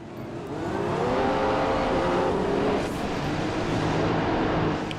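A Formula 1 car engine in the F1 2015 video game on PS4 drones steadily during a practice session at the British Grand Prix, with a sustained high-revving whine that rises and then holds loud and close.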